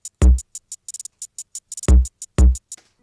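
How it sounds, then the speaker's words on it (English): A tight, short hi-hat sample ticks out a crisp two-bar pattern of 16th notes with quick 64th-note triplet flurries, while a few deep booming hits land underneath, alone with no talking. "the hi-hat pattern is a 2-bar phrase of 16th notes with a few spots of"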